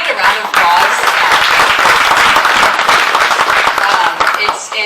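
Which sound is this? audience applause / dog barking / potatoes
audience applause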